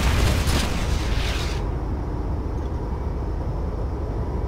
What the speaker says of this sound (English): Ready. Three, two, one,